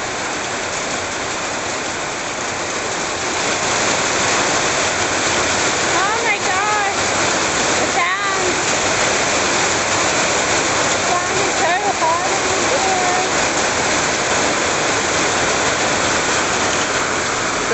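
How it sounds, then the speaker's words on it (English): Rainwater gushes and splashes continuously as it overflows from a gutter and falls, a steady close roar with occasional faint chirps over it. "Looks like we have an overflowing gutter as well."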